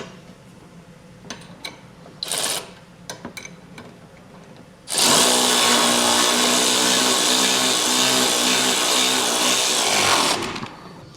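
Several short clicks and bursts are followed by a loud, sustained buzz of about six seconds from a power tool tightening nylock nuts onto bolts while fitting a base plate kit to a 2025 Ford F-150.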